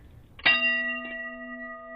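A single bell struck once, a bright clang with a sharp attack and a long steady ringing tone that sustains to the end, with a faint second tap partway through; no talk.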